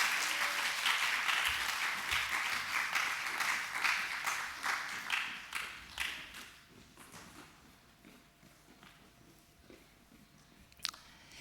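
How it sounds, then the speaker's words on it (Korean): A church congregation gives hearty applause for the children's group and their teachers, dense clapping that gradually thins and fades over about ten seconds. "박수 부탁드리겠습니다."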